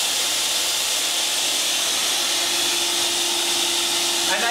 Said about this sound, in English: And I can also just put it on here and take the vacuum cleaner with me.